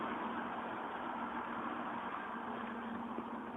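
A car engine idles smoothly after a generic PCV filter install, a steady mid-pitched hum holding even and close for the whole stretch with no voices.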